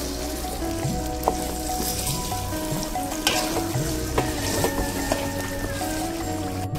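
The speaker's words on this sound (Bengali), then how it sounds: "এবার এক এক করে নাড়িয়ে দেবো ভালো করে, কারণ আমি এই মাংসে কোনো জল ব্যবহার করব না" Chicken pieces fry in masala with no water added for chicken biryani, a loud, continuous, close sizzle with scattered knocks and scrapes as the spoon stirs through the pan.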